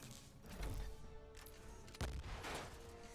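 Gunfire in a turn-based video game, a few sharp shots standing out from a busy background of game noise, with the strongest blast near the middle and another soon after.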